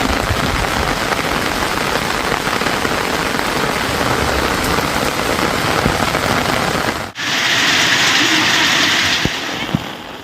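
Steady summer rain pours down in a dense, even hiss, loud and close throughout, with a brief dip before it resumes as a brighter, sharper patter on a surface; no voices.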